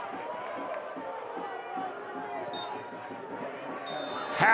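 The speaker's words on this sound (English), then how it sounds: "the crowd making their opinion well heard" Crowd at a soccer match between Detroit City FC and Louisville City FC at halftime in Detroit, a steady roar of voices and chatter, with some whistle-like tones and a swell at the end.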